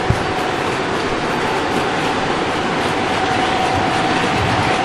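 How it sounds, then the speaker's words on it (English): A train rumbles steadily along the track, a continuous near roar with a faint sustained squeal running through it and no talk. "I'll run the trains for another run by or two."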